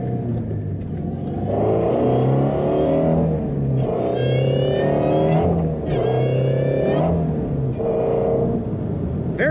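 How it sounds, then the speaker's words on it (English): A supercharged 2016 Ford Mustang Shelby GT350's exhaust roars as it accelerates repeatedly, the engine note rising with each gear before dropping back, loud and close. "a very snappy exhaust note"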